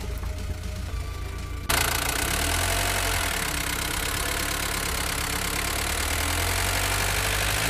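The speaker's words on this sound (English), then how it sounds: "We should start the engine and see if everything is all right." Quiet at first, then a 1982 VW Transporter T25/T3 van engine cranks and catches after an oil change, settling into a steady, rumbling idle that runs on.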